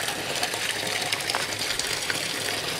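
Water pours steadily out of an aquaponics tank filtered with bio-balls into a fingerling fish pond, a continuous close gushing splash with small bubbling surges.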